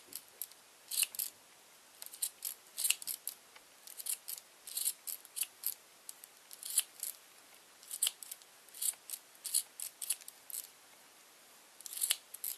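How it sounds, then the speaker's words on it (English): Small scissors snip repeatedly in quick irregular bursts, trimming long strands of yarn from a pom pom for a bookmark, close and fairly quiet with no talking. "Just cut off all the long ones. Make it even and round and nice looking."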